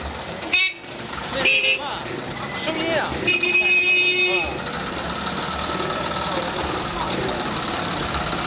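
Vehicle horns toot in busy street traffic, several short beeps and honks in the first few seconds over a loud engine and traffic rumble, with people talking nearby.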